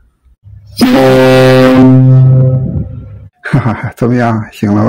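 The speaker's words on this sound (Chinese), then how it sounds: "这就是汽笛的声音" A ship's air whistle, pulled by hand on the bridge, sounds one loud, close, sustained blast of about a second and a half, followed by someone talking and laughing.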